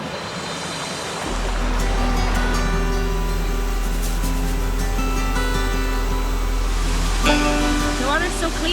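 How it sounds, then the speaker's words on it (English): A small hidden waterfall just off a trail on Ireland's Wicklow Way, a steady broadband rush of falling water starting after a brief quiet moment and continuing close and loud throughout. "we're looking for a little hidden waterfall that should be just off the side of the trail here somewhere"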